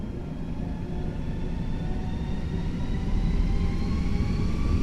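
Airbus A320 jet engines spool up for takeoff: a steady, loud roar with rising whining tones that swell and grow gradually louder.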